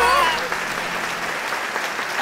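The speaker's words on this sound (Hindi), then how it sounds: "हाँ हाँ तालियां" Short burst of applause from a crowd at an indoor gathering, with voices mixed in and heard over the clapping.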